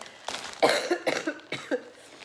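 Several harsh, wet coughs come in quick bursts, close to the microphone, with short pauses between fits.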